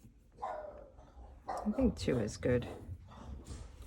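A dog barks and yips in short bursts, close by and mixed under a person talking steadily over it.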